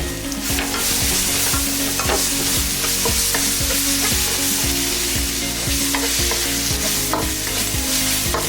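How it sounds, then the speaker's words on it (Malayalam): Squid roast gets stirred in a pan with coriander powder added, producing a loud continuous frying sizzle with rapid, rhythmic spatula scraping and tapping against the pan. "ഇനി ഇത് നന്നായി വരണ്ട് കഴിയുമ്പോൾ ഇതിലേക്ക് മല്ലിപ്പൊടി ചേർത്ത് ഇളക്കുക"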